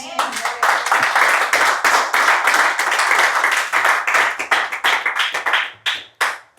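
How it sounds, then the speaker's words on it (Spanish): A church congregation claps hands together in a lively, roughly rhythmic burst, close and loud, the unison beats growing looser and sparser as it winds down. "Démosle una ofrenda de palmas a Dios"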